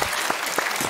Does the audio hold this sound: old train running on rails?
no